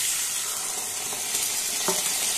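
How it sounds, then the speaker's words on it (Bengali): Spiced potato curry sautéing in a pan with a loud, continuous sizzle and frying hiss, punctuated by a couple of sharp stirring scrapes, with no voices. "আবারও ভালোভাবে কষিয়ে নিচ্ছি।"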